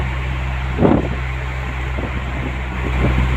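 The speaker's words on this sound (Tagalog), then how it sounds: "Parami ng parami ang sasakyan papuntang Maynila ngayon," Cars in heavy traffic heading to Manila, heard from inside a vehicle as a steady engine and road rumble with a few passing bursts of noise.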